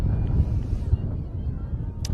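Wind buffeting the microphone at an outdoor girls' varsity lacrosse game on a windy afternoon, a steady low rumble with gusty thumps and a faint whistle, alone and fairly loud.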